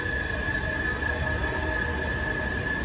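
Washington DC metro train running on unoiled track, a steady loud rumble with sustained high-pitched wheel squealing heard from inside the carriage, no talk.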